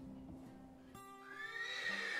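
A wild spayed filly lets out a close, loud whinny that rises and wavers over about a second, standing alone with no talking.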